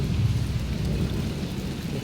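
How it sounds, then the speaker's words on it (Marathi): Heavy rain pours down steadily while thunder rumbles low and continuous, loud and close throughout, with no voices. "ढगांचा आवाज येतोय खूप. कडकड कडकड विजा चमकतायत, ढग पण आवाज करतायत."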